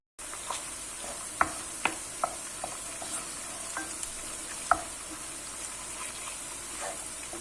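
Chopped onions and tomato paste fry in a pan for a Turkish green lentil dish, with a steady close sizzle broken by several sharp spoon scrapes and clinks as the mixture is stirred.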